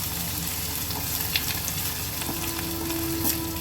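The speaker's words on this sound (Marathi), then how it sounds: "छान फोडणी एकत्र करून घेऊया आपण छान जरा तेलामध्ये भाजली गेली" Tempering sizzling in hot oil for a tangy, spicy Maharashtrian dal, a continuous close crackle and hiss with faint stirring and no voices.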